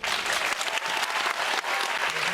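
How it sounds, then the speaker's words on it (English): An audience at a Paris film festival screening of Imogene applauds, a dense, sustained wash of many hands clapping at once, loud and continuous, with no voices standing out. "on peut les applaudir encore"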